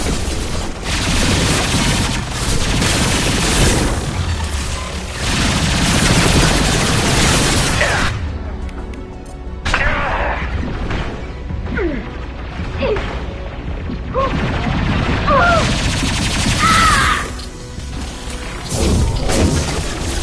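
Gunfire rattles through a Mass Effect 2 firefight, loud sustained bursts and crashing impacts that cut out for short lulls before resuming, with in-game voices calling out over the combat.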